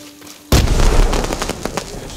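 In the video game Ghost of Tsushima, a sudden loud firework blast goes off after a short quiet moment, followed by crackling, popping bursts that fade over the next second and a half.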